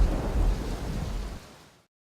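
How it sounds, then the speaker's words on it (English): Thunderstorm with rain at sea as a story sound effect: a loud, low rumble of thunder over hissing rain, fading out within two seconds. "Paafu found his boat being blown about in a huge storm."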